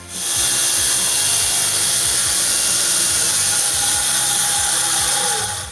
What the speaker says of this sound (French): Je coupe les pièces avec ma lame de scie ronde